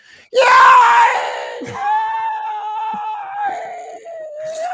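Human voice imitating a TIE fighter's scream, a loud, close, sustained shrieking wail that starts abruptly and then trails into a long, wavering, raspy howl.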